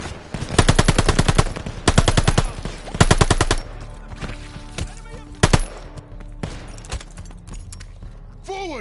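Bursts of machine-gun fire from a half-track in the Call of Duty Vanguard video game, three loud rapid volleys in quick succession followed by scattered single shots and battle noise.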